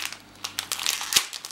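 Crinkly sealed plastic packet from a LEGO City magazine being torn open, sharp rustles and snaps in quick irregular bursts, close by.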